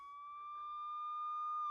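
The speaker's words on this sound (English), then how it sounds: "Suddenly, outside, they hear the sound of a siren. It is a police car." A police car siren wails outside as a single steady, sustained tone that swells slightly louder over the short span, with no other sounds.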